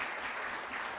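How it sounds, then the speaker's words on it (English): An audience at a youth and senior assembly debate session in Tobago applauds the debaters, a brief dense wash of clapping heard on its own at moderate level. "I'm going to ask you to give all the debaters another round of applause."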